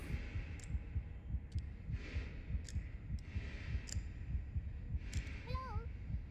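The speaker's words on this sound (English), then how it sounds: "it's a listen to your heartbeat simulator." Steady, slow heartbeat thumps in an indie horror video game, deep and regular throbs looping under a low ambient hum, with faint chimes and a brief warbling tone near the end.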